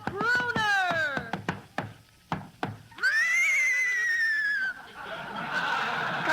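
A horse ridden into the studio in an Abbott and Costello Show comedy skit, its whinny rendered as a loud rising and falling squeal in bursts, with sharp clicks and lively voices and noise around it.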